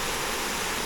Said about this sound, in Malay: So itulah air terjun dia.